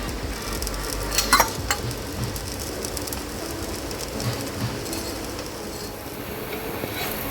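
A semolina chilla fries in a pan after being flipped, a soft continuous sizzle of oil with a few faint scrapes and clicks, close and steady with no talking.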